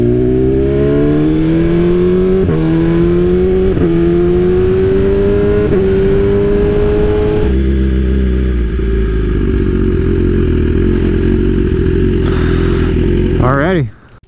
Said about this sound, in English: Those downshifts will never get old.